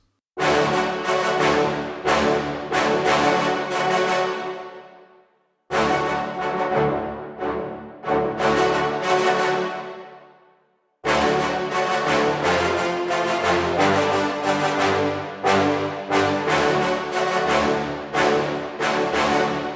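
Sustained brass-like chords swell and decay in three phrases, each trailing off into a long reverberant tail, with short gaps of silence between them.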